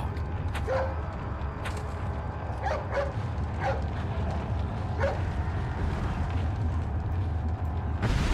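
Dog barking in the video game Resident Evil 4, several short distant yips scattered over a loud, steady low rumble of ambient game sound.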